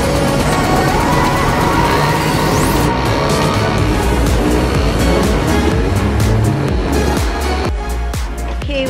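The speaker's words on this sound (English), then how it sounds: "Okay, we're done with Mario Kart." Mario Kart racing game sounds play loudly and continuously, with dense engine revving, kart whooshes and busy arcade effects filling the whole stretch, a brief drop in intensity near the end.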